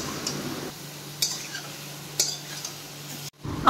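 A spoon knocks and scrapes against a pot while chicken curry is stirred, a few sharp ticks over a low steady hum, moderately near, with a brief pause near the end.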